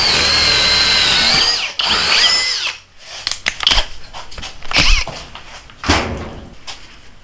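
A Metabo HPT 36V hammer drill with a 3/4 inch auger bit whines loudly and continuously, then bogs and surges in several bursts of changing load before it stops.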